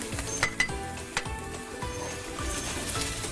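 Garlic and tomatoes sizzle in a pan with a steady, moderate hiss, overlaid by a few clinks and light scrapes of a utensil against the cookware.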